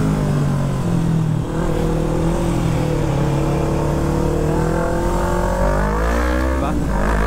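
A Yamaha MT-03 300cc motorcycle rides along, its engine humming steadily and close with rising and falling revs, and wind rushing past throughout.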